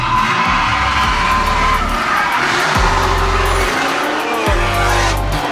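Drift cars at a backyard mansion competition slide through a corner with loud, continuous tire squeal over roaring engines, with repeated revving surges and downshifts across the run, close and dense throughout.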